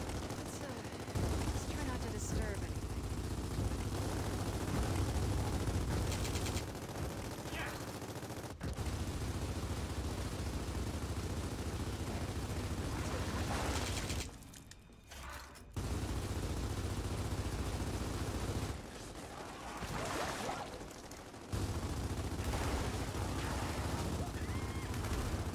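Dense, sustained video game gunfire from the Gears of War series, continuous and loud across most of the stretch, breaking off briefly a couple of times before resuming with the same heavy intensity.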